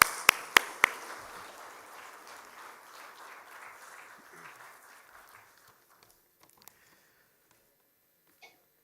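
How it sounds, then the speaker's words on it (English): A short burst of applause at an international arbitration conference session, with a few sharp claps at first, fading out to near silence. "we will conclude this session with one big round of applause for you"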